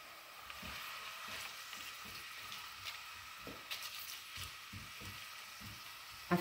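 Soffritto of carrot, rosemary, chili and bay leaf frying on high heat: a continuous bright sizzle with scattered crackles and pops, and a louder clatter at the very end.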